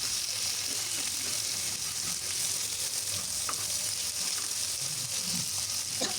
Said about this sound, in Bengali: এই তো মাছগুলো আমি ভেজে নিচ্ছি।